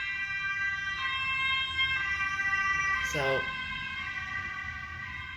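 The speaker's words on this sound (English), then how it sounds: "okay, that was an ambulance" An ambulance siren outside, heard faintly in the distance as a repeating wailing tone over steady background hum, with a short spoken word partway through.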